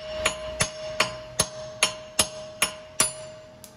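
Nine sharp metallic hammer blows strike a wheel stud on a Subaru, evenly spaced about every half second, close and crisp, with a faint steady hum underneath.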